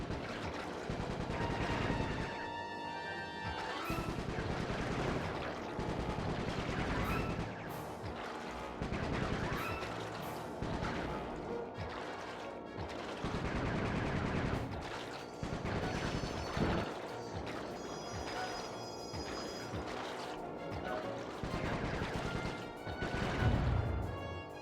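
Bentley firing in the game Sly 3, a dense, continuous run of gunshots, crashes and impacts over a busy game soundtrack for the full length, with no clear talk.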